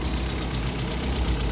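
A GM Zafira 2.0 16v petrol engine idles steadily after an engine bay wash, a close, continuous low rumble with no talking.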